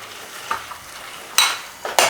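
Jaggery syrup is stirred with rice flakes and puffed rice in a pan, heard as a soft scraping under low sizzle, with a few loud, brief stirring scrapes near the end.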